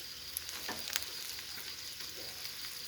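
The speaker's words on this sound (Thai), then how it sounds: "ทอดไฟไม่ต้องแรงมากนะ" Slices of bitter gourd coated in egg fry gently in oil over low heat, giving a faint, steady sizzle with a few soft crackles and no talk.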